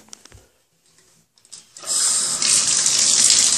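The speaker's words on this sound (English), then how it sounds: "Oh, I think the water's turning on." Water pours from a tap in a bathroom setting, starting after a few quiet clicks and knocks and building into a loud, steady hiss that runs to the end.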